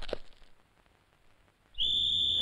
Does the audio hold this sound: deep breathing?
no